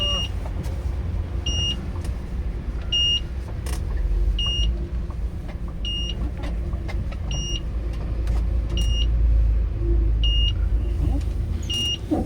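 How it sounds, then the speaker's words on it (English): A $5,000 solar-powered car gives its reversing warning, a series of short electronic beeps repeating at an even pace over a low, steady rumble. "And then there is that beep when you're reversing."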